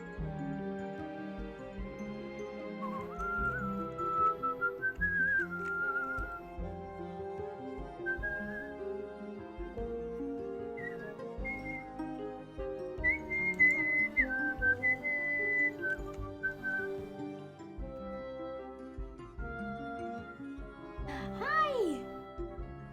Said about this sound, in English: Did my whistling summon you?